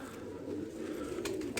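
A pigeon coos steadily and softly throughout, a low rolling murmur with a couple of brief brighter flutters near the end; the bird is a sturdy one-tail Kasuri-type show pigeon.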